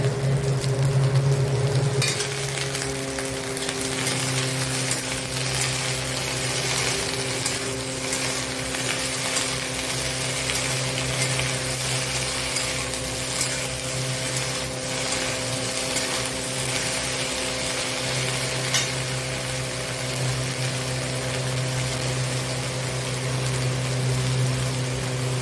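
Okra (bhindi) fries in a pan with a continuous low sizzle and occasional stirring scrapes, steady throughout with a constant background hum and no speech.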